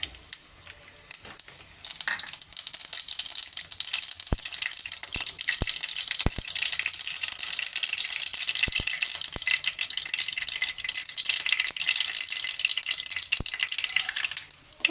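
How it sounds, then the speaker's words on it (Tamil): Hot oil crackles and sizzles steadily throughout, with sharp scattered pops from spluttering mustard seeds bursting at irregular moments, close and fairly loud, no voices. "ரத்த பொரியலுக்கு எண்ணெய் காஞ்சதும் கடுகு போடணும்."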